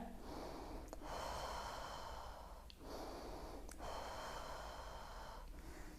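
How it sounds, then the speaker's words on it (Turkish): A pregnant woman breathes deeply during a stretching exercise, slow audible inhales and exhales repeating in a steady rhythm, close to the microphone. "Nefes al ver."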